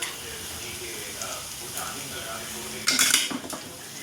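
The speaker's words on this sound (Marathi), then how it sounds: "आणि आता हे आपण गरम करायला जे पाणी ठेवलं होतं ते आपण त्यात टाकणार आहोत." Hot water goes into a pan of fried brinjal: a few quiet utensil clinks, then a sudden short, loud hissing splash near the end that fades within a second.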